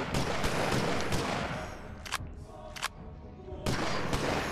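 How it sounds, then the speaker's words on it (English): Gunfire in the shooter game Die To Survive, sharp rapid shots in dense bursts with a brief lull in the middle before firing resumes, loud and close over a busy game mix. "Gunshot sounds are great."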